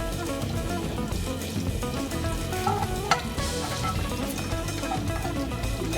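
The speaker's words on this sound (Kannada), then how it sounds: "ಅದೇ ಪ್ಯಾನ್ಗೆ ಇವಾಗ 1 ಸ್ಪೂನು ತುಪ್ಪ ಹಾಕ್ಕೊಳ್ಳೋಣ." A spoonful of ghee heating in a pan for Mangalorean prawn ghee roast gives a steady, fairly loud sizzle with a faint stirring scrape and one brief clink partway through, no voices.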